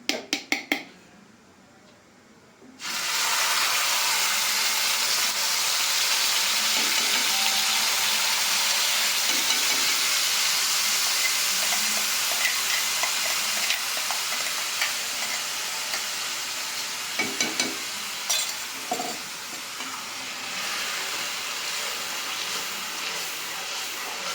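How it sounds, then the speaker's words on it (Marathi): Tomato puree hits a hot kadhai and sizzles loudly and continuously, a steady hissing fry with a few scraping stirs of a spoon against the pan. "यात आता टमाट्याची प्युरी टाकून द्यायची. कढई गरमच आहे."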